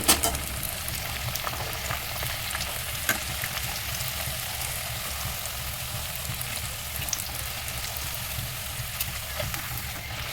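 Luchi, small rolled flatbreads, fry in hot oil with a steady bubbling sizzle close by, with faint stirring and light crackles over a constant hiss for about ten seconds.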